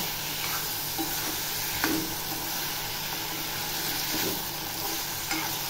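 Snake gourd stirred into masala frying in oil, a continuous close sizzle under the scrape of a spoon turning the vegetables, with a few louder stirring strokes.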